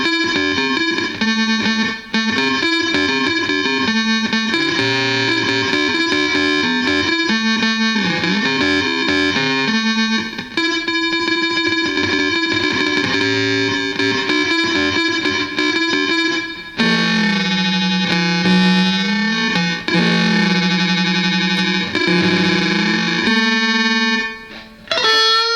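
Guitar run through a Digitech XP300 Space Station pedal on its pixelation effect, producing loud, sustained, glitchy digital tones with warbling pitch sweeps and harsh upper partials, steady and without any talk.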